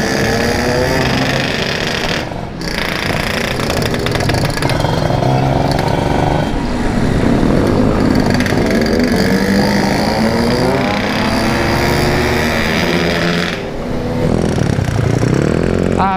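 Yamaha RX-King motorcycle engines revving and droning steadily nearby on a village road, the pitch rising and falling as the throttle opens, with a brief dip midway and again near the end.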